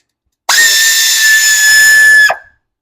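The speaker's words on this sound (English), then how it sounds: "I'm using a quarter drive air ratchet with a quarter drive deep well 10 millimeter socket." A quarter-drive air ratchet fitted with a 10 mm deep-well socket spins for about two seconds with a loud, steady high-pitched whine that cuts off abruptly, working on a 2004 Toyota Sienna engine.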